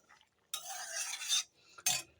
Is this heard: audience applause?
no